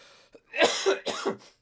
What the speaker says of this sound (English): I'm having a coughing fit now